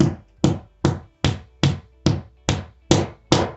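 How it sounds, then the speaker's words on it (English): A hammer taps a plastic toggle anchor into a hole in a wall, eight sharp even strikes roughly every half second, loud and close with no talk. "So you grab the plastic toggle, insert it on the hole, and with the hammer"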